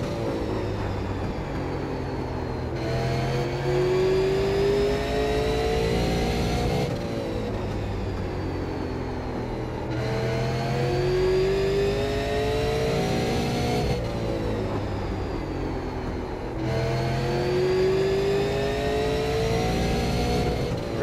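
Super late model race car engine from the iRacing sim, droning loud and steady with repeated rising pitch sweeps as it accelerates out of corners, fading briefly between laps sections; no talking over it.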